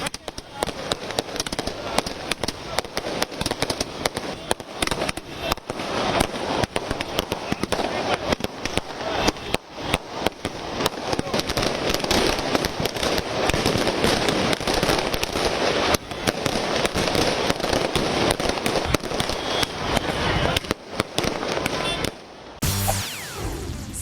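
Firecrackers burst in rapid, dense strings of sharp cracks and pops at a BJP celebration in Varanasi, loud and continuous, with crowd noise mixed underneath.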